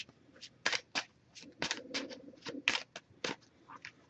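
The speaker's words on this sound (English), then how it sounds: "I'm gonna give it a few more shuffles, and then we'll cut the deck and pull a card." An oracle card deck being shuffled by hand in bursts of crisp riffling and soft slapping card sounds, close and fairly quiet, with short pauses between shuffles.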